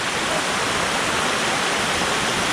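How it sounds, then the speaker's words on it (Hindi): A waterfall on a rocky forest trail in Andharban, heard as a steady, loud, broadband roar of rushing water with no break and no voices. "ये मुझे लग रहा है ये एक्चुअली एक झरना ही है"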